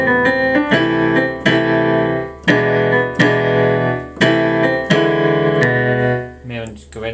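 A piano plays a short phrase of sustained chords and notes, each struck clearly and ringing, repeating in a steady rhythm, close and fairly loud.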